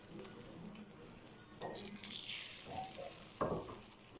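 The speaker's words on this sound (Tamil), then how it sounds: "நான் 4 முட்டையும் ஒன்றா ஊற்றிடுறேன்." Four eggs are poured together into hot oil in a pan and begin to fry. A quiet background sizzle is broken by a few brief splashy surges as the eggs hit the oil.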